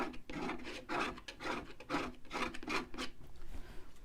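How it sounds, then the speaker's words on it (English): A palette knife scrapes across a thickly built-up mixed media paint surface in a run of rough, rasping strokes, close and fairly loud, repeating steadily about every half second with no talking. "Like I said, scraping away."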